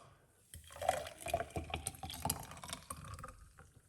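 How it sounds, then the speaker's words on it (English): Pineapple, beetroot and citrus juice poured into a cup, a soft splashing, gurgling stream that runs for a few seconds, faint and close, with no talking over it. "So let's pour it off."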